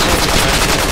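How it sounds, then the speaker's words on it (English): A grenade launcher firing in the Project Reality military shooter during a close fight with a jeep and a building: a loud, dense, continuous blast of gunfire filling the whole second. "That's a good thing this grenade launcher works."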